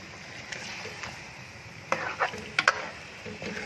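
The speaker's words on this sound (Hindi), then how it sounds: "तो इसको अब हम मीडियम आंच पे तकरीबन 10 मिनट तक भूनेंगे" Chicken for a chicken potato curry fries over medium heat with a soft, steady sizzle, broken by a few clinks and scrapes of stirring near the end.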